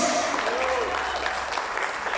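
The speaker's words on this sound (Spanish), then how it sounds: "¿Cuánto le aplaude al Señor?" A church congregation applauds the Lord during a Spanish-language worship service, a steady wash of clapping that fills the space, with a voice rising briefly over it.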